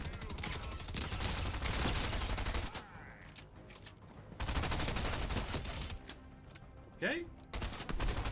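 Rapid gunfire bursts from a weapon with heavy recoil in the Fortnite video game, Chapter 3 Season 2, loud and repeated across the clip with a brief spoken word among the shots.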